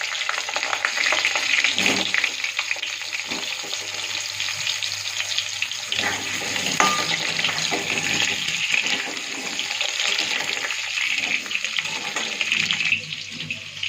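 Whole cumin seeds and long-sliced potatoes frying in oil for a Bengali katla fish curry, a continuous close sizzle with occasional stirring clatter and a watery hiss, no one speaking.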